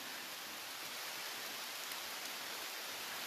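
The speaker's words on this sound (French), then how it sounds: "mais il pleut" Steady rain falls on trees outdoors, heard from a sheltered spot as a constant, even hiss that fills the whole stretch with no voices over it.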